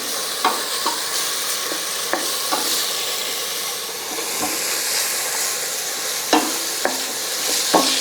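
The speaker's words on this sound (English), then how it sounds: "Now, add some garlic." Garlic sautés with sweated, nearly translucent onions in a soup pot for hot and sour soup, a loud continuous sizzle broken by occasional spoon scrapes and clinks.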